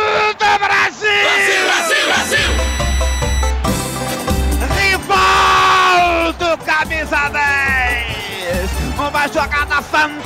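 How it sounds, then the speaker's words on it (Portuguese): A football stadium crowd erupts after a Brazil goal against England, with loud roaring, yelling and whooping that swell and surge continuously. "Gol brasileiro do México para a festa e delírio da torcida."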